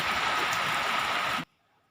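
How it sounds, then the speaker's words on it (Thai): Rain pours steadily on a freshly planted vegetable garden where basil and young plants were just set out, a dense even hiss close by that cuts off abruptly near the end. "วันนี้ฝนตก"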